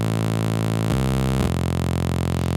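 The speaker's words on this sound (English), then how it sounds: "I'm going to detune this, transpose it down 24 steps. So it will now sound like this." A deep, thick Reese bass of detuned synthesizer saw waves transposed down 24 semitones drones loudly, shifting pitch twice in quick succession, with a dense buzzing texture throughout.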